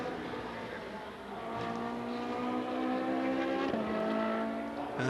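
A Ferrari race car screams out of the final turn and across the finish line at the Hockenheimring during a Coppa Shell race, its loud, high-revving engine holding a steady howl with a brief pitch dip mid-pass.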